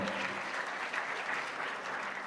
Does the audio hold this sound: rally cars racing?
no